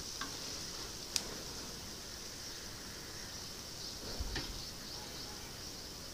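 Paneer pieces frying lightly in oil for a palak paneer curry: a faint, steady sizzling hiss with a few soft clicks and taps of stirring, quiet and continuous throughout.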